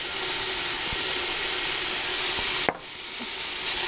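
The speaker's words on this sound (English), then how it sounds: "So our oil's getting hot. Onions in, garlic in," Onions and garlic frying in hot oil for a tomato-braised octopus, a steady broad sizzle throughout with a few soft clicks and one sharp clack near the end, no talk.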